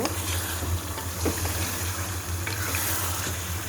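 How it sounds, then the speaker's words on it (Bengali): Chicken pieces sauté with ginger and garlic in a pan, a steady close frying hiss with occasional stirring scrapes, a low hum running underneath throughout. "কষিয়ে নেব আদা রসুনের সাথে।"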